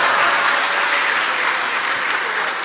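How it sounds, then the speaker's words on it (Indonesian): An audience breaks into strong, even applause, a dense continuous patter of many hands that holds steady throughout. "Tepuk tangan tuh Tio."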